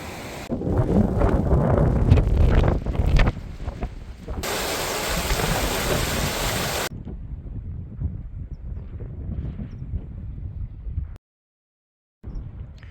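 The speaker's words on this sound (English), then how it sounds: "And I'm guessing this is the Vakkotavare River." The Vakkotavare River rushes beneath a bridge on the Kungsleden trail in Sweden, a steady broadband roar of flowing water mixed with gusty wind buffeting the microphone, louder at first and then softer before a brief cut to silence.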